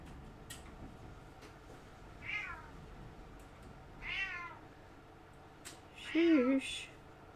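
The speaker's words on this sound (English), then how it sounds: "Noisy kitty." Indoor house cat meowing, three separate drawn-out meows spaced a couple of seconds apart, close and fairly clear, the last one loudest, over quiet room noise.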